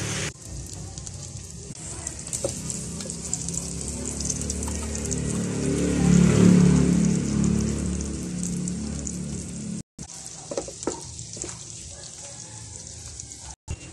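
Corned beef with button mushrooms frying and being stirred in a pan, a steady broadband sizzle with soft scraping that swells slightly midway, then cuts out briefly before continuing, with no talking.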